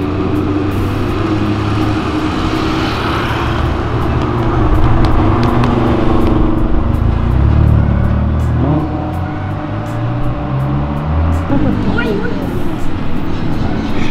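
Sports cars, including a Lamborghini, a BMW and a Ferrari, downshift and rev along Avenida Europa. Loud, continuous engine roar fills the street, with rising revs swelling and falling as the cars pass nearby.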